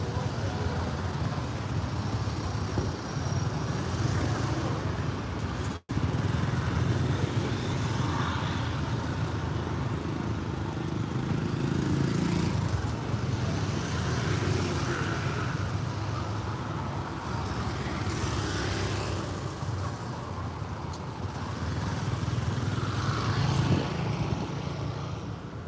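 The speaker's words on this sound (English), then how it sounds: "I'm not used to seeing this much traffic" Busy Saturday-night street traffic in Kampot, Cambodia, with cars and motorcycles passing near a bridge: a steady, dense roar of engines and tyres, with a brief sudden drop-out partway through and passing vehicles swelling in and out.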